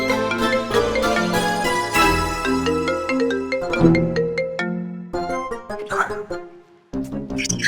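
A cheerful melodic phone ringtone chimes loudly and continuously, its bright tinkling tune repeating with brief pauses before resuming.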